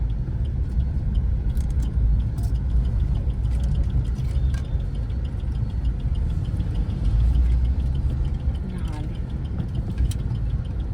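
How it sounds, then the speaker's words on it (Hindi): Road traffic rumbles with car engines idling and moving nearby, a dense steady low drone under frequent nearby talking, with occasional faint horn-like tones. "यहाँ देख सकत हो संगवारी कितना ज्यादा ट्रैफिक हो गया अब इतने में"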